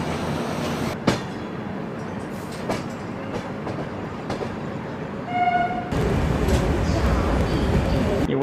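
A Rajdhani Express rumbles along the track while arriving at Panvel Junction, with a steady rolling drone and wheel clatter, a brief squeal, and a louder surge of noise near the end. People talk faintly over it.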